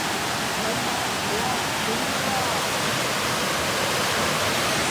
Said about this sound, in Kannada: ಎಷ್ಟು ಚಿಕ್ಕ ಚಿಕ್ಕ ತುಂಬ ಚೆನ್ನಾಗಿ ಫಾಲ್ಸ್ ಇದೆ